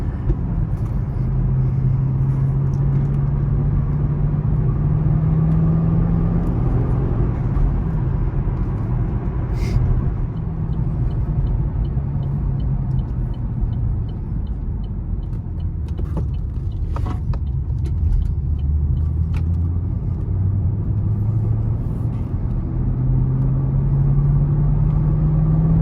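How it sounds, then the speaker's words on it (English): 2010 Chevrolet Camaro 2SS/RS with LS3 V8 driving, heard from inside as a steady low engine rumble with gear-change pitch sweeps rising and falling, plus a few clicks and brief thumps. "Very quick car, gets up and goes nicely. A lot of torque out of the LS3."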